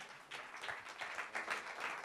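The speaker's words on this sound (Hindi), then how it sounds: "a huge round of applause," An audience applauds for Arjun Rampal at a film teaser launch event, a steady wash of many hands clapping for about two seconds, fairly faint and distant.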